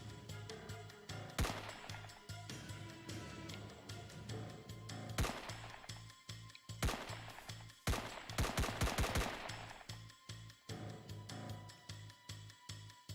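Repeated gunfire from a Ludum Dare 49 indie video game, set in space, bursts of sharp shots in rapid volleys with short pauses, loud and close, with no talking over them.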